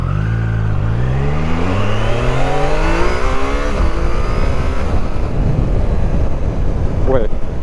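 A Triumph Tiger Sport 660 motorcycle accelerates hard in sport mode, its engine note rising through the gears with rapid upshifts, loud and close with steady wind rush, while a rider talks over it.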